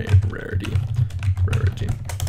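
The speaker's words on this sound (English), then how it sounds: "So we'll just type in here a" Rapid clattering keystrokes on a computer keyboard as code is typed, a dense run of close, crisp taps with short pauses, heard on its own without speech.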